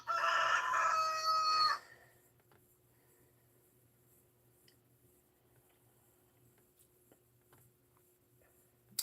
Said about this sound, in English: What about a rooster?